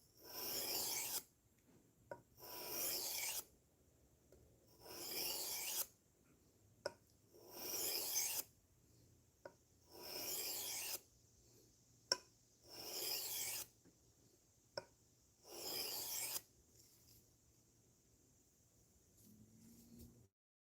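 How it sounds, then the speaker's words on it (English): Blade being sharpened by hand, about nine separate bursts of close, bright rasping strokes spaced by short silences, faint and steady in rhythm. "Oh, I like sharpening this so much."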